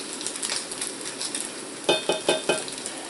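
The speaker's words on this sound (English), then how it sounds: "that was seared into the pan. I'm just going to scrape that off." Lamb chops sizzle and fry in a pan while a utensil scrapes seared bits off the bottom, with four sharp scraping strokes near the end over a steady hiss.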